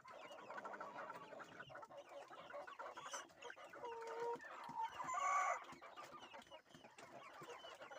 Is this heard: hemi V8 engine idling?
no